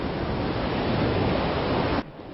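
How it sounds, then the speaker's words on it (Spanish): Wind and sea surf along the Cabo de Gata coast in Almería, a steady, loud broadband rush of waves and gusts that drops off abruptly near the end. "el sonido del viento y del mar en el mágico Cabo de Gata"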